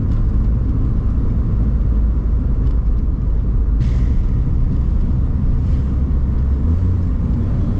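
Engine of a 1983 Mk1 Volkswagen Golf GTI with a 1.8 litre engine, heard from inside while driving: a loud, steady low rumble and drone with a brief gear change partway through, no talk.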